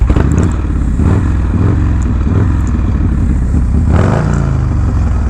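A 1987 hot rod Harley FXR motorcycle, nicknamed Hood Status, rides with a loud, continuous engine rumble and throttle blips, close and dominant with mechanical clatter and no talking.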